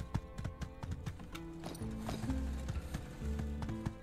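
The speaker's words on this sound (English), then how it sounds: "Okay, thank you, horsey. You've been a good horsey." Horse hooves clip-clop in a steady, rapid rhythm in the video game My Time at Sandrock, with game music tones playing underneath at moderate volume.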